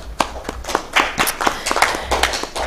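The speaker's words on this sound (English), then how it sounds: "A round of applause to Margaret Kakande." A small audience at the World Bank's Uganda Economic Update applauds Margaret Kakande, head of the budget monitoring unit at Uganda's Ministry of Finance. The claps are sparse and distinct, a few people clapping unevenly and close by.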